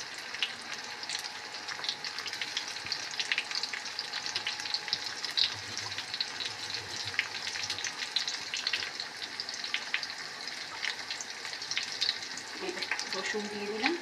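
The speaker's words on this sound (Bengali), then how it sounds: "রসুন দিয়ে দিলাম।" Garlic fries in a pan of oil while preparing kalmi shak bhaja, producing a steady, close, crackling sizzle that continues unbroken throughout, with faint kitchen clatter in the background.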